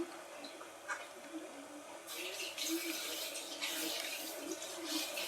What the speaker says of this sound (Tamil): தேங்காய் ஜாரில் தண்ணி பிடிச்சி அப்படியே ஊற்றிக்கலாம்.